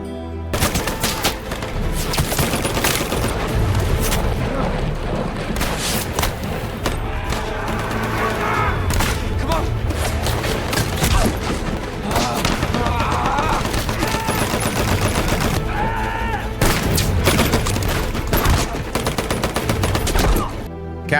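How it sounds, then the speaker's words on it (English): Intense war-film battle scene on Hacksaw Ridge: continuous loud gunfire, machine-gun bursts and booming explosions, dense and relentless throughout, with occasional voices buried in the chaos. "Doss rescues Howell and the two finally escape Hacksaw under enemy fire"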